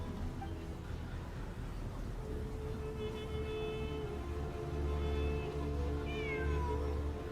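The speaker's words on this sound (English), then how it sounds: "Oh, there's a cat. I faintly heard it." A cat meows in Genshin Impact, a few short mewing calls near the end over a steady low game background hum.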